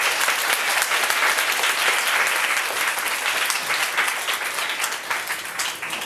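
An audience at a Friday evening gathering applauds a teacher, a dense sustained burst of clapping from many hands, loud and close, fading slightly toward the end.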